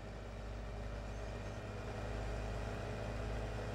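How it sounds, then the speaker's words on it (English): A tractor engine in Farming Simulator 17 drones steadily with a loud, low rumble that holds constant throughout, with no talking over it. "That tractor's kind of loud."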